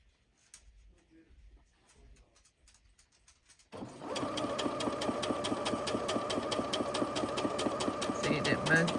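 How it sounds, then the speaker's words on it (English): A sewing machine stitches quilting fabric blocks. It kicks in partway through, after a quiet stretch of faint talk and handling noise, then keeps up a steady, fast, rhythmic mechanical whir until the end. "So imagine these are all blocks, So you start sewing."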